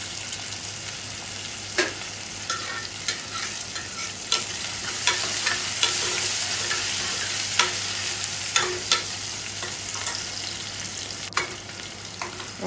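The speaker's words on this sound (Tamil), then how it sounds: "எண்ணெய் சூடானதும் சோம்பு ஃப்ரை ஆனோடனே வெங்காயம், ஒரு பெரிய வெங்காயம் எடுத்துருக்கேன், அது போட்டு தாளிச்சிருங்க" Onion frying in hot oil with fennel seeds for a chicken gravy, a steady sizzle running the whole time with sharp stirring clicks and scrapes at irregular intervals, close and alone with no talk.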